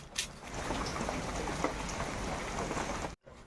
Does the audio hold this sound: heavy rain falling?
yes